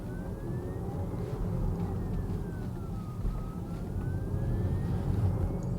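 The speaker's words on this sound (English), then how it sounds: "there is a good amount of motor whine." A Lucid Air Grand Touring electric car gives off a thin motor whine that glides up and down in pitch over a steady bed of low road rumble, continuous throughout.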